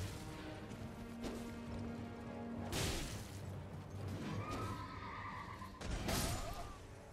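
A horse neighs in the Elden Ring video game, a whinny rising mid-clip and another near the end, set among game combat sounds with sharp impacts and clashes.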